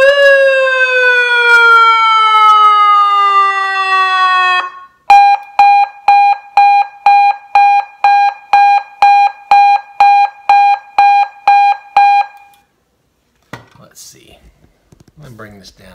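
An electronic police, fire and ambulance siren wired straight to a battery blares a loud falling wail, then switches to a rapid chain of about fifteen pulsed yelps, cuts off, and leaves faint handling noise.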